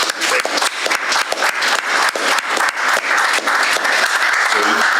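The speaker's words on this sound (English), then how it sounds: "I just want to give you a round of applause for all the work the media here has done in supporting it" Audience applause at a press conference for the Soul Beach event: dense, sustained clapping from a room full of people, steady and fairly loud, with a voice starting up near the end.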